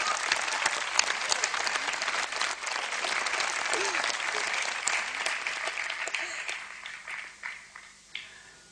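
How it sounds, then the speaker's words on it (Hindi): A studio audience breaks into sustained applause, a full dense clapping that holds for about six seconds, then thins into a few scattered, separate claps as it dies away. "मैं चाहूंगा पहले तो मैं ही ताली बजाता हूँ।"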